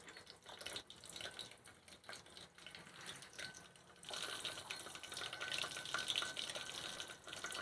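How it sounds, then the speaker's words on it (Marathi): Cumin seeds dropped into hot oil on a traditional wood-fired stove sizzle as a steady hiss and crackle, which grows suddenly louder and brighter partway through, close and without talk. "आता जिरं टाकत आहोत."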